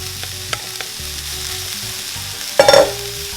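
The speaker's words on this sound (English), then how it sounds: "now what we're gonna do is we're gonna add the meat back to the mixture" Drained cooked meat is stirred back into onions and peppers frying in a pan for pastelitos filling, giving a steady close sizzle with scraping stir strokes and a louder burst of clatter near the end.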